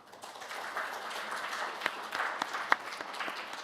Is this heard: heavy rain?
no